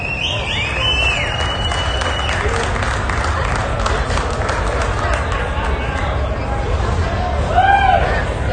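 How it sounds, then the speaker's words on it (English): A crowd at a motorcycle show claps in a sustained round of applause, with chatter and babble throughout and a few whoops rising near the end. "Extra round of applause for that."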